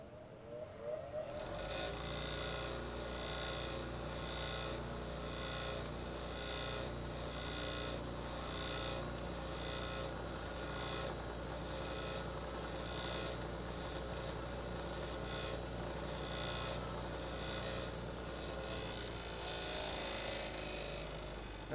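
A hand file rasps steadily against a small metal pin from a Hatsan 125/135 air rifle, putting a bevel on its end with a continuous run of rhythmic back-and-forth strokes, close and fairly quiet.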